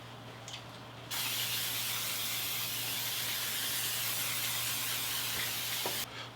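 A can of cooking oil spray hisses continuously for about five seconds as a baking tray is coated, a loud steady close spray with quiet moments before and after.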